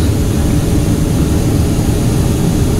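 Cabin of a Soviet Yak-40 airliner in flight: a loud, constant low engine drone and airflow roar filling the space, steady and unbroken.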